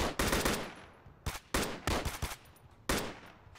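Gunfire from the military video game Arma 3: several sharp, loud bursts of automatic and single shots crack out at irregular intervals, each followed by a short decay, with no talking.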